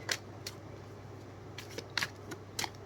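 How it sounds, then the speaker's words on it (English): Oracle cards being shuffled by hand in a few short papery riffles and flicks, soft and close against a quiet room hum, with no one talking. "Shuffle them a little more."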